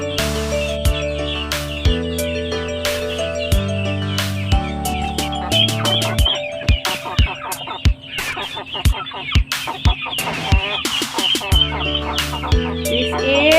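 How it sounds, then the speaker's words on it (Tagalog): A native chicken, crossbred with a hulo rooster, clucks repeatedly at close range in short bursts, with other birdsong and a sustained musical tone running beneath. "This is a native chicken."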